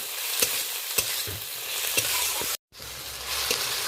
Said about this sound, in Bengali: আদা রসুন টমেটো পেঁয়াজ ফোড়নের সাথে বেশ ভাজা ভাজা হয়ে গেছে